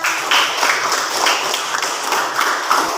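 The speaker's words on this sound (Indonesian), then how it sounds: "Tepuk tangan untuk Amanda." Schoolchildren in a classroom give a pupil a short burst of lively, dense hand clapping that stays loud and even throughout.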